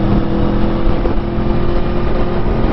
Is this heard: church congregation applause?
no